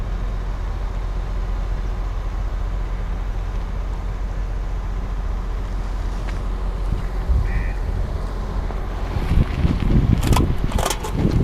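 A car engine idles steadily through a parallel parking manoeuvre, low and constant, with a few louder knocks and thumps near the end.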